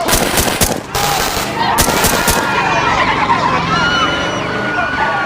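A rapid burst of gunshots, several sharp cracks fired in quick succession close by, followed by a lingering noisy outdoor scene with vehicle sounds and shouting in the background.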